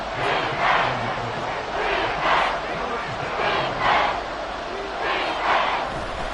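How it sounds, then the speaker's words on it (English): A stadium crowd at Arrowhead in the Madden 24 football video game roars continuously, swelling in repeated chanting waves about once a second, loud and broad with no clear talk over it. "The Arrowhead crowd in full roar"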